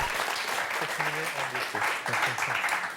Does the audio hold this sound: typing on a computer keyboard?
no